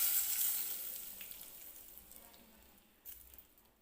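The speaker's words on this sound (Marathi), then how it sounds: "हे जे तयार केलेला आपल्याला तडका आहे तो मी या कैरीमध्ये टाकून घेणार आहे." Hot tadka poured onto chopped raw mango for quick pickle sizzles loudly at first, then fades into a soft crackling fizz over a few seconds, with a brief stir near the end.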